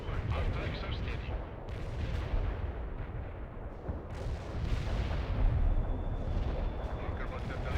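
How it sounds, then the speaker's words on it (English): Laser-guided bomb strike in the World in Conflict strategy game, heard as a dense, continuous rumble of heavy explosions and artillery-like booms throughout, loud and sustained, with a faint radio-style voice beneath. "Delivering a laser-guided bomb to the coordinates."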